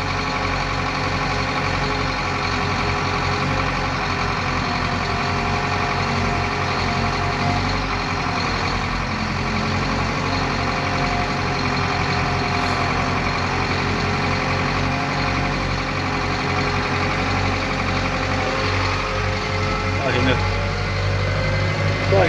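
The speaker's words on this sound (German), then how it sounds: "Da fahre ich jetzt den Radlader hin." Wheel loader driving toward a storage yard, with a steady loud diesel engine drone and rumble throughout and a faint beep near the end.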